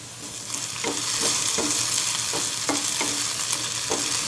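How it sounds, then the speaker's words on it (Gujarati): Potatoes cook in a covered pan with a steady low sizzle, broken by a few soft regular knocks or taps, close and fairly quiet. "હવે બટેટાને આ રીતે એક મિનિટ માટે ચડવા દઈએ ઢાંકીને"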